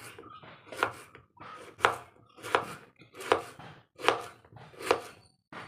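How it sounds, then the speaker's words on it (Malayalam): Knife chopping semi-ripe mango for a pickle, seven sharp, evenly spaced cuts against a board, close and crisp, with no talking. "നമുക്ക് ചെനച്ച മാങ്ങ അരിഞ്ഞെടുക്കാം."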